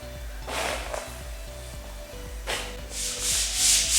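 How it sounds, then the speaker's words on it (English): Sandpaper rubbed along a wooden mast by hand in repeated strokes, a close, dry scratching that comes in bursts and grows busier and louder toward the end, over a faint low hum. "little piece of sandpaper to finish it off."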